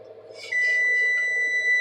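A kitchen timer sounds in a home kitchen while oil is readied in a pan for arroz con pollo, giving a sustained shrill electronic beep that starts abruptly halfway through and holds steady above a low hum.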